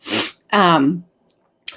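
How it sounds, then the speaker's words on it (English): A sharp, close sneeze with a quick intake before it, followed by a long voiced burst, then silence and a brief short noise at the end. "I have a sneeze trying to get out of my nose right now"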